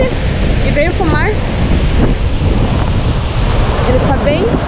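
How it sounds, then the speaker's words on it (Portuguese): Strong ocean surf breaks at São Miguel beach in Penha, Santa Catarina, after rain, a loud continuous wash of waves mixed with heavy wind buffeting the microphone, with faint voices at moments. "Ele tá bem forte as ondas"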